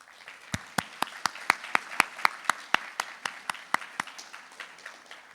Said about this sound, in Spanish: les pido antes de empezar un fuerte aplauso para ellos